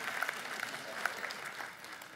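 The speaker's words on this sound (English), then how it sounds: "you can clap, it's good" A congregation claps during a church sermon, a short burst of scattered applause that rises briefly, then thins out over about two seconds, heard from within the room.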